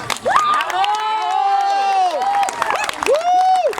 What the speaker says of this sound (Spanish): despois dun forte aplauso, Gabriela.